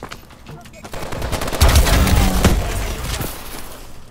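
PDW gunfire in Call of Duty: a loud, close rattle of rapid automatic shots, swelling in the middle of the clip, with no talk.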